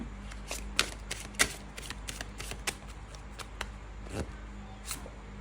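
Oracle cards are shuffled by hand in a steady run of quick, crisp riffling flicks and slaps, close and clear, with no talking.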